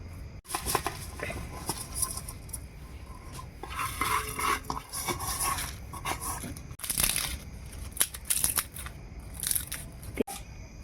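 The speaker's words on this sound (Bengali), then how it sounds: "এবার একটু শিলের মধ্যে মশলাগুলোকে বেটে নিচ্ছি" Roasted spices being ground by hand on a traditional Bengali grinding stone (shil), giving gritty, crunching scrapes in an irregular rhythm, close and fairly steady across the whole stretch with occasional sharper clacks.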